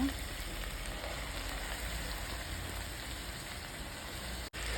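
Chopped spinach (palak) fries in a pan with softened tomato, giving a steady, even sizzle that goes on unbroken throughout, with one brief dropout near the end.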